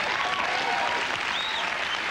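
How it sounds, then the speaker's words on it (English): A concert audience claps along during a country performance, a continuous wash of many hands close and loud with no voices on top. "Yes, you can clap."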